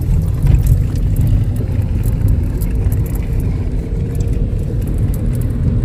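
A car drives over a badly rutted, uneven road while the driver weaves around bumps, giving a loud, steady cabin rumble with low-end thumps and rattles throughout.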